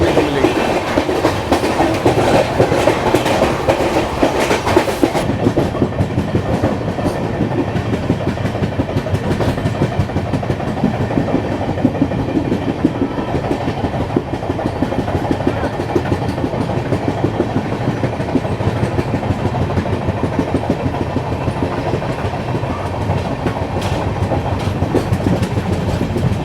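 The 12313 Sealdah Rajdhani express runs at speed, heard from inside a 2AC coach: a loud, steady rumble with a continuous rhythmic clatter of wheels over rail joints, a brighter burst of noise in the first few seconds, no talking.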